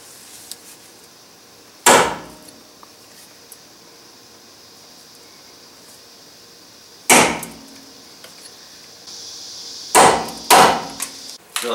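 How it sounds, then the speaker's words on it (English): Four sharp metallic strikes of a hammer on a punch marking the rivets of a Dodge Dakota 2WD's factory ball joints, spaced apart, with the last two close together and quiet pauses between. "Using a punch, place a dot in the center of each rivet."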